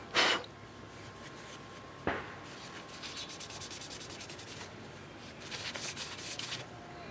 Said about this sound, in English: I'll burnish it with some wood